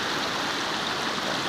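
Water gushes steadily along a trail near a spillway in Ceará, a loud, continuous broadband rush of flowing water close by, with no pauses.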